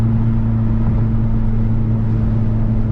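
A tuned 2017 Honda Civic Type-R with a big turbo running hard during a race, a loud, steady droning engine note with strong low hum, sustained and close without pauses.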